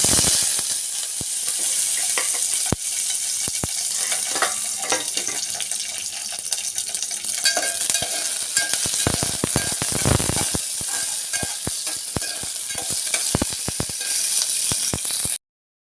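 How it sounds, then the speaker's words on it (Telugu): Green chillies fry in a spoonful of hot oil with a dense, steady sizzle and scattered pops and crackles, loud and close throughout, with no talking. "ఇప్పుడు ఒక స్పూన్ ఆయిల్ వేసేసి పచ్చిమిర్చి అయితే వేసేస్తాం."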